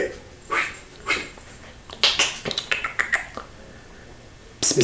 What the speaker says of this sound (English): Cat's making noise.